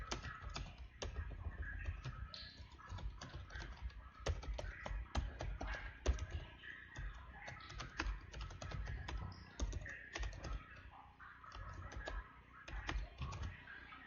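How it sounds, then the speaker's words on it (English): Computer keyboard typing on a laptop, rapid irregular key clicks running steadily throughout, close and fairly loud with no voices. "I've just typed something."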